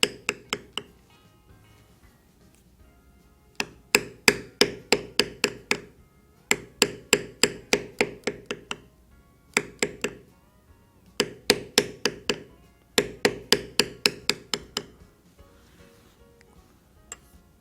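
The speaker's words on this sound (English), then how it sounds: "With all figure beveling, it's a good idea to always taper it off, as you see me doing here." A mallet taps a beveling tool on leather while carving a horse head, crisp close knocks in fast bursts of eight to ten strikes separated by brief pauses.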